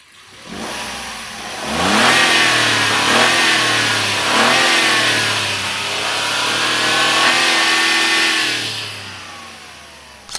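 A Maruti Dzire Z series 3-cylinder engine revving up and down from idle, several loud rising and falling surges in a row before it settles back, close and alone.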